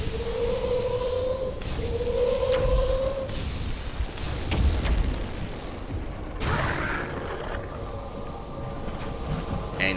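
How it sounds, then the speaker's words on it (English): A weapon barrage fires in the video game Sunless Skies, delivering a series of heavy booming shots and thuds with rumbling, noisy tails over a steady low drone of the ship. "Just one full barrage nearly kills it."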